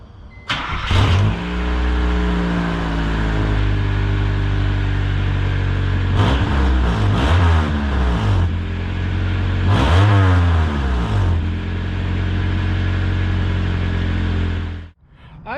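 A car engine with muffler tape repairing its exhaust pipe starts up close by, idles with a steady drone, and is revved several times before cutting off near the end.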